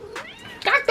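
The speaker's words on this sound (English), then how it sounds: "What's wrong with this cat?" A house cat meowing up close, a short loud whining meow followed by another rising cry within a second, with a person speaking over it.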